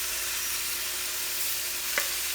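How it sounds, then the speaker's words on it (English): Basmati rice hits hot oil and is stirred, giving a steady close hiss of sizzling throughout with a brief scrape of the stirring near the end. "Add in our rice."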